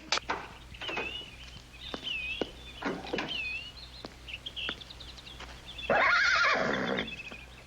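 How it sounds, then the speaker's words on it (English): A horse lets out a loud, drawn-out whinny near the end, after scattered hoof clops and faint bird calls in the background. "Looks like a fine horse."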